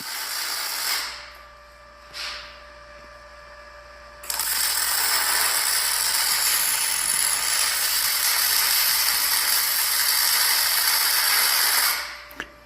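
MIG welding on a car wash assembly with an ARCCAPTAIN welder turned up too hot, a loud continuous crackling hiss running for about eight seconds after two short bursts, no talking.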